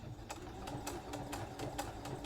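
A sewing machine runs a quarter-inch line of stitching around a bell sleeve on a thrifted shirt, a quiet, rapid run of evenly spaced needle clicks over a soft motor hum.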